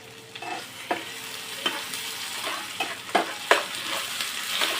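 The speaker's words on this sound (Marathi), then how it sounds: "त्याच्यामुळे दोन्ही पण तेलामध्ये चांगलं तळून घ्यायचं आहे" Onion and ginger-garlic paste frying in oil in a pan, a steady sizzle broken by repeated sharp stirring scrapes and clacks of a spoon.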